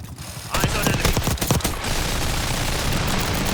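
A minigun roars in a video game: a dense, loud, continuous stream of rapid shots starts abruptly and keeps going without pause to the end.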